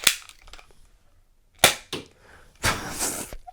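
A 1990s Nerf blaster shoots a dart in a straight shot, giving a sharp pop followed by a few quick thuds and a brief rushing, rattling burst, all close and moderately loud with quiet gaps between.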